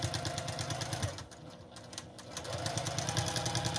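A sewing machine stitches fabric for a Halloween ghost pillow, running in fast, even rhythmic bursts close by, briefly slowing mid-seam before picking up speed again.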